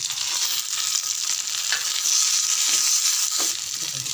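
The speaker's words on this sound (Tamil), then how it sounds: "புதினா கொத்தமல்லி ரெண்டுமே சேர்த்து வதக்கும் போது ரொம்ப நல்லாயிருக்கும்" Mint and coriander leaves sautéing in a pan with ginger, garlic, green chilli and onion for mint chutney, a dense continuous close sizzle with a few soft stirring scrapes.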